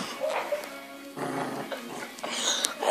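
A dog growls in low, rough bursts, faint and close, with some voices around it.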